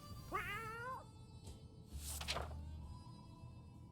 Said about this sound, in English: We have a cat.